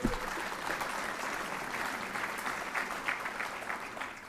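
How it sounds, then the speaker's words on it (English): An audience at a city address gives a brief round of steady, moderately loud applause, many hands clapping evenly with no talk over it. "It's all right, go ahead and clap"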